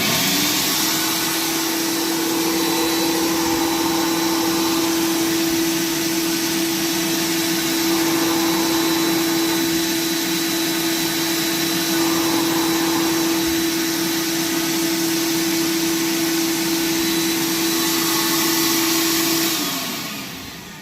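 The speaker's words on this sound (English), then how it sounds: "I'll turn a vacuum on for you." A shop vacuum used as a dust reclaimer on a modified sandblast cabinet runs steadily with a constant hum and whine, loud and unbroken, then winds down at the very end.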